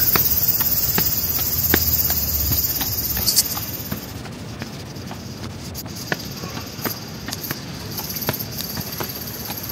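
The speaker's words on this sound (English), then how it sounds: "Cicadas." Cicadas chirping steadily in Japan, a dense high-pitched buzz that cuts off after a few seconds and then continues as a fainter, thinner drone, with sharp clicks and low rumbling in the background.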